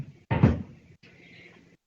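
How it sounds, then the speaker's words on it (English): A chair shifted indoors: a sharp knock and scrape followed by a softer, briefer scrape, close by, with no voices. "I'm going to move this chair."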